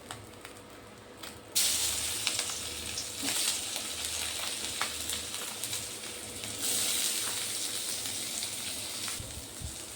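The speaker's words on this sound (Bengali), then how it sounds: "এগুলো এই তেলের মধ্যে আমি এখন দিয়ে দেব পেঁয়াজ আর রসুন" Onion and garlic dropped into hot frying oil set off a sudden, loud crackling sizzle that keeps spitting and hissing steadily close by, rising again partway through.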